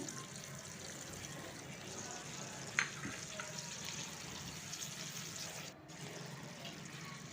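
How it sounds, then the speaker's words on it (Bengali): Potatoes and Gobindobhog rice frying with ginger paste in a pan, a soft continuous sizzle with a brief clink of stirring, low and close throughout. "আলুর সঙ্গে গোবিন্দভোগ চালটাকেও খুব ভালো করে ভেজে নেব"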